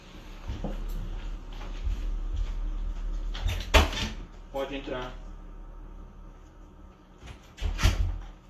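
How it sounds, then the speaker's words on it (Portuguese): A house door is opened to let a knocking cat inside, with clunks and a latch rattle around the middle and another thump near the end, while a person talks quietly throughout. "Deixa eu só abrir minha porta aqui, que tem um gatinho batendo na porta aqui querendo entrar."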